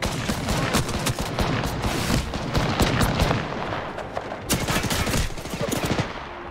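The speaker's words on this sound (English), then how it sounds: "I'm getting shot at" Gunfire in Apex Legends, rapid automatic bursts and single shots crackling in dense, overlapping volleys that keep going almost without pause, loud and close, with occasional heavier booms.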